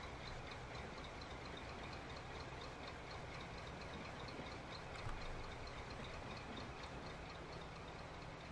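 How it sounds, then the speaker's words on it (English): A steady, droning Big Boy locomotive engine hum in the video game Transport Fever runs without a break, with a low rumble underneath and no voices. "This train has got a weird engine sound."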